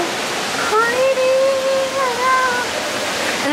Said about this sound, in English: it has like a really cute waterfall.